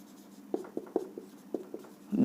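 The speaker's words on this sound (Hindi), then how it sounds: "मैं इसको यहाँ लिख दूँ" Chalk or marker tapping and scratching on a classroom board in a chemistry lesson, a series of short, quiet, irregular strokes with no voices over them.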